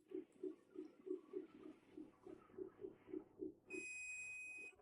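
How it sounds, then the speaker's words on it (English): Multimeter continuity beeper during a 12 V 2 A power supply adapter repair: a quick string of about a dozen short, evenly spaced beeps, then a steady, higher-pitched tone that holds to the end. "It is beeping, so it is okay."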